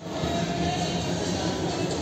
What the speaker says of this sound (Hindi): बठिंडा रेलवे स्टेशन पे हम अपनी ट्रेन से उतर गए